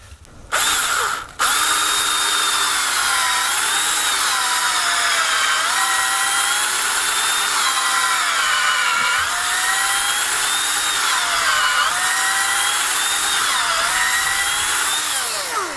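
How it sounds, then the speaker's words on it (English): A power drill bores a tap hole into a maple tree, a loud, steady high-pitched whine with wavering pitch that runs continuously after a brief start and stop. "we're going to go ahead and drill the other real quick"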